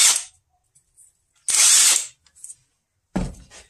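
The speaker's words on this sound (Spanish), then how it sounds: "Llevo bastante tiempo y llevo muy contento con este taladro de impacto." An Inco impact drill loosening a tight nut while a small motorcycle engine is taken apart fires in three short rattling bursts, the middle one longest, with quiet gaps in between.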